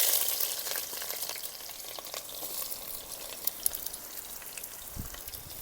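A single onion frying in a third of a cup of mustard oil in a village kitchen, a bright continuous crackling sizzle close by with occasional spatter pops and no speech.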